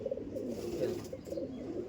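Andhra pigeons coo softly in repeated low, throaty phrases close by, with no talking.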